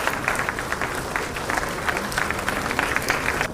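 Steady, dense applause from a crowded hall at a government appointment-letter ceremony, rolling on unbroken at an even level throughout.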